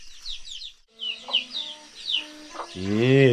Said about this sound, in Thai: ไก่เข้าเฮือน